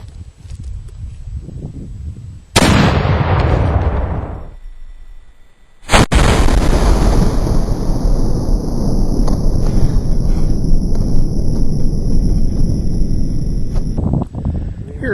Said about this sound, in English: Here we are, ready for shot number 7, 7 ounces cannon grade black powder, 6 pound hollow projectile.